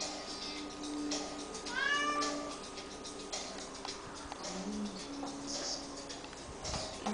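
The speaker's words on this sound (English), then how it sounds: "What does the cat say? He say, meow." A house cat gives a single short meow partway through, heard faintly against a quiet indoor room with soft ticking and small background noises.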